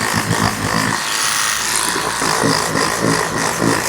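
A donkey's electric toothbrush buzzes steadily as it scrubs a new carpet, a close, loud motor whir with rough scrubbing texture that rises and dips in level.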